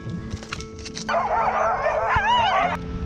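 Sled dog puppies yip and whimper in a continuous high, wavering chorus, fairly close, with a steady low hum underneath, in the Arctic.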